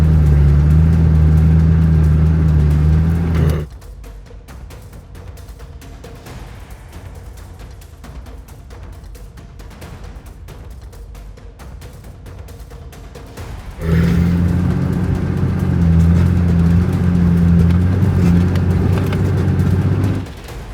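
Toyota Land Cruiser engine labouring up a steep 30-degree off-road trail ascent, a loud close low roar that drops to a quieter rumble for about ten seconds and then swells back to full strain.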